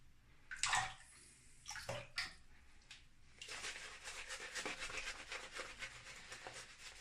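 A bar of plant-scented fern soap is wetted with a little more water and rubbed into a lather, giving soft, continuous wet rubbing and squelching close up after a few brief splashes and handling sounds, with no talking.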